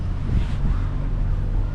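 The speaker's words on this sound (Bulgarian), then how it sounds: "Започна да духа силен вятър." Strong wind gusts at a ferry port in Greece, a steady loud rumbling roar of air buffeting the microphone, with low-frequency boat or engine hum underneath and no voices.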